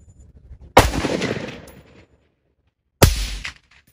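Two sharp, loud sniper rifle shots at an outdoor military sniper championship, each cracking out and trailing off in a rolling echo, about two seconds apart.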